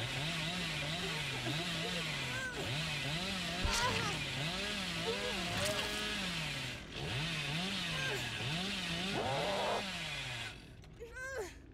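The Hillbilly's chainsaw in the video game Dead by Daylight revs in repeated rising and falling waves for several seconds, with a voice talking over it.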